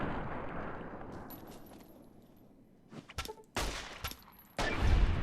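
Gunfire in Fallout: New Vegas: after a quiet stretch, several sharp, loud gunshots crack out in an irregular sequence, with the last blasts landing close together near the end.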